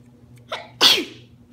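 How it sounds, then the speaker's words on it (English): A single close, loud sneeze from a child reviewing toys indoors, a short intake followed by a sharp burst, with no talk over it. "Sorry, I just sneezed"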